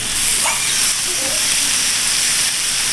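Peeled, deveined shrimp hit a hot hibachi griddle, giving a loud, steady, close sizzle and steamy hiss throughout, with a voice faintly mixed in.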